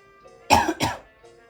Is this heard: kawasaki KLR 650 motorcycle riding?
no